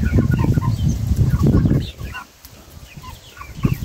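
Two-month-old chicks clucking and peeping close by, with busy overlapping calls and scratching during the first half, then thinner, sparser chirps over a quieter background.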